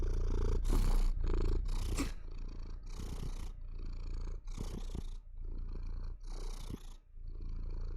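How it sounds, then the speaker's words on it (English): A pet house cat purring right up against a microphone, a loud, close rumbling purr in steady rhythmic cycles, with a few bursts of rustling handling noise near the start. "You want to hear him purr?"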